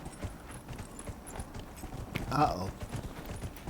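Horse hooves clip-clop at a steady walking pace in the video game Dragon Age Inquisition, moderately loud, while someone speaks briefly over them.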